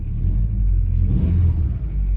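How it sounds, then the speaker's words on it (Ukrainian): A car engine that had trouble starting from cold is revved after it fires up, a loud, steady low rumble that swells in the middle with the throttle and then settles, close by with no talk. "Двигун запустився обороти держа, зараз дам газку."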